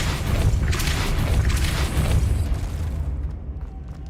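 The Depulso spell is cast in Hogwarts Legacy, a loud booming burst with rumbling bass that rolls on for a few seconds before fading.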